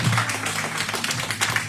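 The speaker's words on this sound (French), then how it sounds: "Est-ce qu'on peut encore applaudir le Seigneur pour cet homme de Dieu," A church congregation claps to honor a pastor during a service: a brief stretch of dense, moderately loud clapping from many hands, with faint voices underneath.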